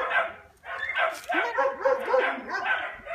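A dog in training yips, barks and whimpers in a run of short, close cries that rise and fall, with a person's voice mixed in among them.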